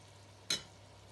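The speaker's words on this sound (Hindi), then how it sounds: "और इसमें फिर एक दफ़ा चम्मच हिलाएं।" A single short scrape of a spoon against a pot of beef biryani (Sindhi degi style), one quick clink-like stir standing out over faint background hiss.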